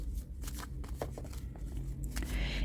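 Oracle cards being shuffled by hand, a quick run of close crisp riffling snaps and soft slaps in steady bursts, with no talking.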